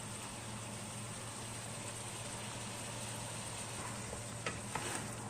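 Drumstick pieces sauté in hot oil for sambar, giving a steady, even sizzle that runs throughout, with a couple of faint clinks near the end and no voice.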